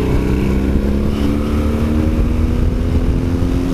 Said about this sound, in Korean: 순식간에 추월 가속에 성공했습니다